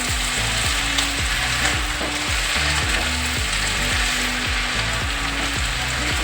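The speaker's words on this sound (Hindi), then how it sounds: "पलटी पलटी करके इसको चलाते रहेंगे।" Fenugreek and potatoes stir-frying in a hot pan, a loud continuous sizzle with regular scraping strokes from stirring, close up and with no talk.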